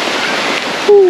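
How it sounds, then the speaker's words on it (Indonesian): Heavy rain suddenly pouring down on a campsite makes a steady, dense hiss close by. A brief tonal whistle cuts in near the end. "Bila hujan tiba-tiba datang guys."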